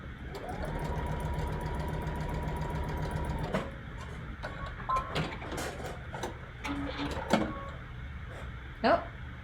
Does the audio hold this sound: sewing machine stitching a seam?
yes